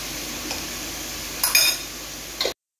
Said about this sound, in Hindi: मैं इसको थोड़ा सा सौते करूँगी